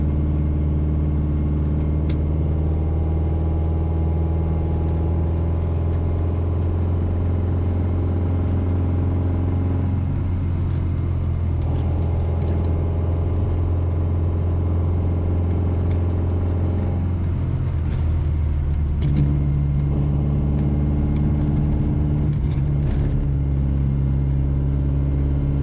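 A restored classic Mini with a 998 engine climbs a steep hill in third gear, giving a steady, loud, low engine drone with a faint shift in pitch partway through.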